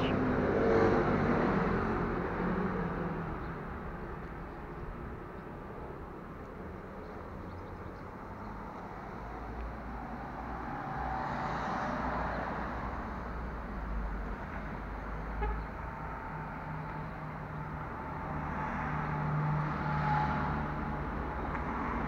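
A battered, roughly patched Renault 4 over 25 years old drives on a road in Croatia, a steady engine and road rumble swelling and fading in waves at moderate distance, with no talking.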